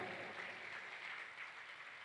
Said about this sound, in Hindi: एक बार जोरदार ताली अपने लिए बजाइए आप सब।